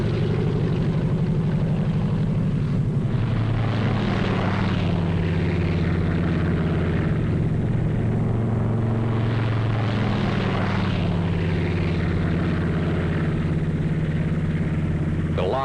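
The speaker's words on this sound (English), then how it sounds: "They had massed hundreds of British and American gliders in preparation for the most gigantic aerial towing job ever attempted." Propeller aircraft drone continuously as they tow massed British and American gliders, a loud steady engine roar with slowly shifting pitch as planes pass overhead throughout.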